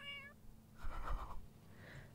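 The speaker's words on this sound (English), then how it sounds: "Okay, cat, you need to move." Cat meowing in The Sims 3 Ambitions, a single soft drawn-out meow in the middle with a fainter trailing mew after it, heard quietly over low game background.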